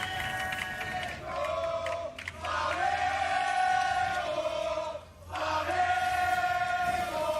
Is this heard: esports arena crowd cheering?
yes